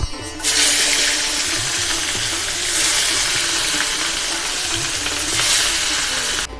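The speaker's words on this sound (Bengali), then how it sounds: "এরমভাবে সব মাছ কড়া কড়া করে ভেজে নেব।" Pieces of katla fish fry in hot oil until crisp, a loud, steady hiss of sizzling that swells and eases in waves, with only faint background hum.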